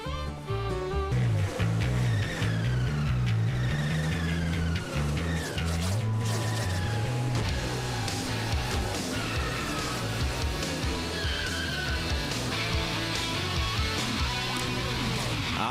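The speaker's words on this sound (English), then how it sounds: "The engines have fired as the sun sets in the west of Kentucky Speedway, and the cars are pulling out onto the racetrack" NASCAR Busch Series race cars fire their engines and pull onto the track at Kentucky Speedway at sunset, producing a loud, steady rumble of many engines with wavering revs and a busy broadcast mix throughout.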